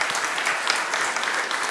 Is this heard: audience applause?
yes